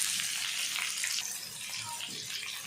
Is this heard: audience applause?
no